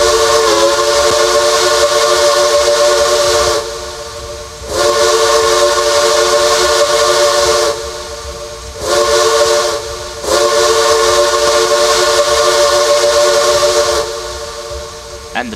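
A locomotive's Alco chime steam whistle in the Trainz railway game sounds as loud, sustained chord blasts, four long calls separated by brief hissing gaps and ending with a short final toot.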